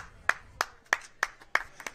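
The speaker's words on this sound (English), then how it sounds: "ZK can't resist but give you a round of applause." Six crisp hand claps at a conference, spaced evenly about a third of a second apart, each one sharp and clear against a quiet room.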